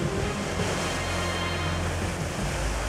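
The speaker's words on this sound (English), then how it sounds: "Set waves were washing up over on the rock and then coming up through the rocks." Massive swell surges over and through the rocks at the Pump House surf break. The surf makes a loud, continuous roar with wind rushing across the microphone.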